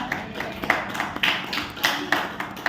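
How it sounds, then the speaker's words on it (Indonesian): Scattered applause from a secondary school class during a microteaching lesson, a few sparse, uneven claps at close range with no talking over them. "Kasih tepuk tangannya buat Anda."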